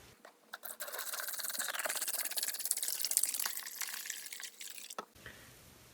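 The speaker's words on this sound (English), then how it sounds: "I'm just going to drop it into a plastic container, and then I'm going to add the Evaporust" Evaporust rust remover poured into a plastic container, a steady close trickle and splash of liquid lasting about four seconds before stopping, with no talk.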